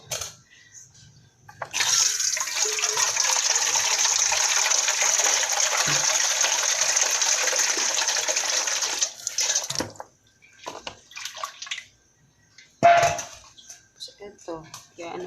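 Water gushes steadily for several seconds while being poured during a family breakfast at home, then stops, followed by faint handling noises and a short splash.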